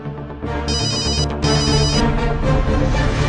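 An electronic telephone ringtone trills in two loud, sustained bursts, with steady background sound beneath and no talking.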